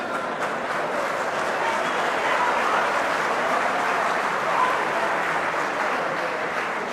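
A crowd at a BJP rally in Sirsa claps in a dense, steady roar of applause that holds at an even, fairly loud level throughout with no clear break.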